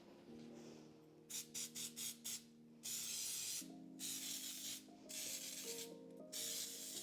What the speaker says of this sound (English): I'm going to spray these liberally with Pam baking spray.